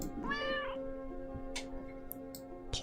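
Cat meowing in a video game, one clear drawn-out meow near the start over steady background music, followed by a few short clicks and ticks.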